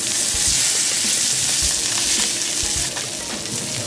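A sea bass fillet from Anglesey frying in a pan, a steady close sizzle and crackle of hot fat that holds evenly throughout with small spits and pops, no voices.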